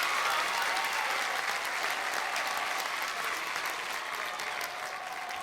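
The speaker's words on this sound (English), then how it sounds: "we're going to give a big round of applause to Todd Jones here" Steady applause from a small crowd for guest Todd Jones, continuous clapping, fairly loud and close, tapering slightly toward the end.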